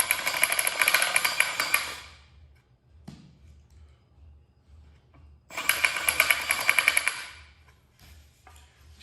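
A high-pitched power tool whines in two bursts of about two seconds each as it slowly widens the input jack hole in a guitar body, with quiet gaps between.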